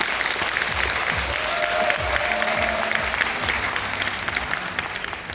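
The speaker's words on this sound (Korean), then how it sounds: "박수로 맞아주십시오" Sustained applause from an audience welcoming the city mayor at a town-hall citizens' dialogue event, steady clapping filling the whole stretch with a faint crowd murmur beneath.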